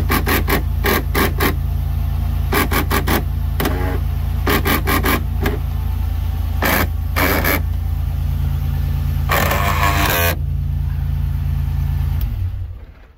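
A car's slipping moonroof motor makes repeated rasping, grinding bursts in short clusters, some brief and some lasting about a second. A steady low hum from the running engine continues underneath until it fades at the end.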